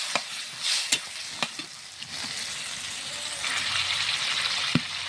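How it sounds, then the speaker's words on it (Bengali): Jackfruit seeds are stirred through hot spiced masala in a pan, giving a continuous close sizzle and fry with sharp scraping and clacking of the spoon at intervals. "সুন্দরভাবে বিচিটা লাড়াচাড়া করে নিচ্ছে"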